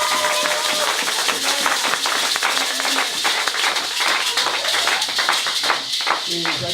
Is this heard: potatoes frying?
no